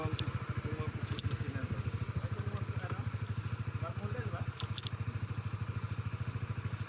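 A Honda CB150X motorcycle engine idles nearby with a fast, even, low chugging pulse. A few sharp clicks and clatters sit on top of it, and a person talks in the background.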